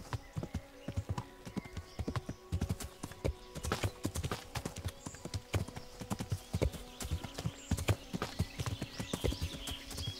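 Horse hooves clip-clop steadily in Kingdom Come: Deliverance as a rider urges the horse up a steep, overgrown slope, close and busy, with uneven rhythmic thuds over faint ambient noise.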